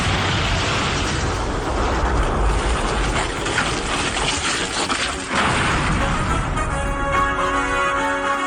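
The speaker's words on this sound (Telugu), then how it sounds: "హీరో కూర్చున్న కార్నే బ్లాస్ట్ చేసేరేంది?" A car explodes with the hero sitting inside, a loud, dense blast that rumbles on and roils for several seconds, with a second surge midway before the noise thins into a lingering ringing tail.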